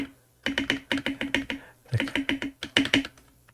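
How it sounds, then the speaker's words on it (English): Crisp clacky keystrokes on a Keychron K8 Pro wireless mechanical keyboard, typed in quick bursts with short pauses between, close and clear in a quiet room. "I'll do a quick sound test, but this is the best sounding keyboard I've had"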